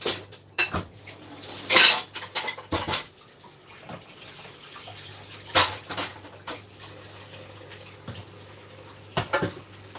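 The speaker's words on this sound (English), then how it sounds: "I'm washing the dishes." Dishes being washed in a kitchen sink: repeated clinks and clatters of plates, pots and cutlery in irregular bursts, with running water in the background, close and moderately loud.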